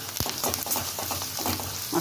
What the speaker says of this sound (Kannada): ಚೆನ್ನಾಗಿ ತಿರ್ಸ್ಕೊಳೋಣ